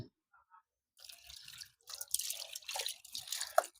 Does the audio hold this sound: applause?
no